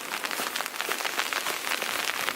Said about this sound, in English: Definitely more hail than snow.